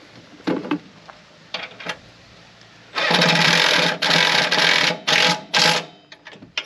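A bolt is tightened on a Woodland Mills TFG55 PTO 5-inch wood chipper, with loud bursts of ratcheting or power-driver whirring in several closely spaced runs after a few short taps, close by.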